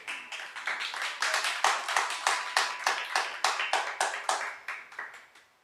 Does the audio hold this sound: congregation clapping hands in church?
yes